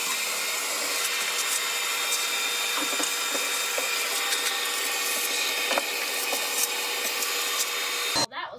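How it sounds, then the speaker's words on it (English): A vacuum cleaner sucks up fine sanding dust from freshly sanded work, a steady, fairly loud rushing whoosh that runs unbroken for about eight seconds before cutting off abruptly. "now it's time for a short segment I like to call Vacuuming with Jackson."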